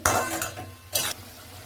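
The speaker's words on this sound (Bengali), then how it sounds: "এবারে ভালো করে এটা আমি মিশিয়ে নেব সব একসাথে" A spoon scrapes and stirs a ground spice mixture of cumin, coriander and salt for chicken momo filling in a bowl, giving two bursts of gritty scraping with a pause between.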